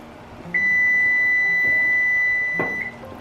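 A single long, loud electronic beep, steady and high-pitched, lasting about two seconds before cutting off.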